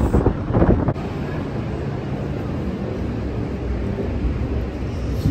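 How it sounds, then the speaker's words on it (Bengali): Strong winter wind blows at frozen Niagara Falls, buffeting the microphone with a steady, loud rumbling roar; brief voices sound at the start before the wind noise continues alone. "যা হাওয়া!"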